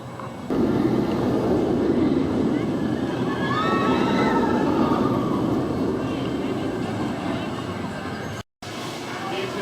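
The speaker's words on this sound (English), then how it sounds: "One of my favorite Aero Mine trains." Adventure Express, an Arrow mine train roller coaster at Kings Island at night, rumbling steadily along its track with faint squealing wheels, a loud continuous roar that drops out briefly near the end.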